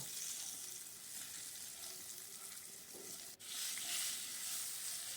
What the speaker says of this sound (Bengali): আলুটা একটু ভাজে ভেজে তুলে নেব